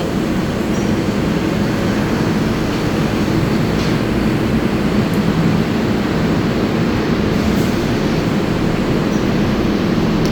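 A New York City 7 subway train at the Flushing last stop gives off a loud, steady rumble and roar of rolling rail cars and station noise, continuous and close with no talking.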